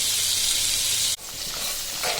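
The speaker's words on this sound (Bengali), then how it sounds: "চিংড়ি মাছগুলো এক পাশ ভাজা হওয়ার পর আমি অপর পাশ উল্টে দিচ্ছি।" Prawns sizzle loudly in hot oil in a pan, a dense steady hiss that breaks off sharply midway as they are flipped to the other side, then resumes slightly quieter with light scraping.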